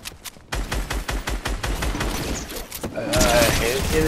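Hand cannon gunfire in the Fortnite video game: rapid, dense volleys of shots in quick succession, loud and close, breaking into a more chaotic clatter of overlapping fire toward the end.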